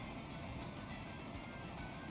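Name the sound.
train suplexed in Final Fantasy VI Pixel Remaster video game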